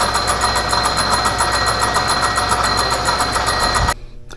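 A milling machine decks a tough Japanese cast iron engine head at low RPM, giving a loud, continuous grinding whir with a rhythmic knocking pulse close by before it abruptly cuts to a quieter hum.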